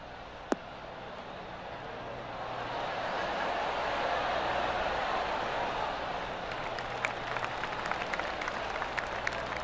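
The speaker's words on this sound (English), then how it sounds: "Oh, golf clap." Scattered applause from a golf gallery watching a shot head for the green in PGA Tour 2K23, a soft, steady wash of clapping that swells midway and holds, with a few sharper claps near the end.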